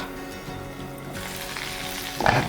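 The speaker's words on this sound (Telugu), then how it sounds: "తాలింపు రెడీ అయిపోయింది. పోపు దాంట్లో పెట్టేసుకుందాం." Hot tadka tempering with asafoetida poured into kadambam, a traditional temple prasadam dish, gives a steady close sizzle that swells into a louder, brighter crackle near the end.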